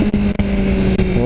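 A BMW S1000 R motorcycle engine runs as a loud, close, steady droning hum, broken by a few brief dips in level.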